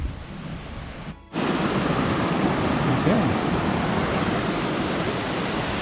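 Waterfall near Grisedale Tarn in the Lake District, a loud continuous rush of falling water that surges in abruptly after a brief dip and stays steady, with a single short word spoken early.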